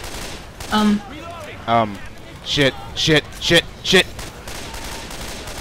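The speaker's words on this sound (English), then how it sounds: "Just run forward and shoot" Gunfire in the zombie shooter game Left 4 Dead 2: several short bursts of shots in a loose rhythm over low game ambience, with a player swearing briefly.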